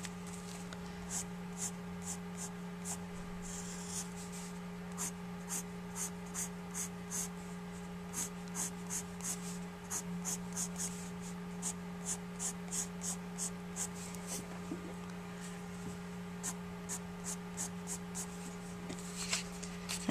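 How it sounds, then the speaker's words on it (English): An ebony pencil with dark lead scratches and strokes across paper while hair is shaded in, giving a steady run of short, close scribbling strokes over a faint constant hum, with no voices. "this is an ebony pencil and it's a nice dark lead"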